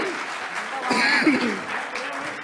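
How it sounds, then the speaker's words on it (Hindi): Brief burst of audience clapping at a Hindi kavi sammelan comedy show, swelling in the middle and fading out, with voices mixed in over the applause. "ढंग से ताली एक बार बजाओ।"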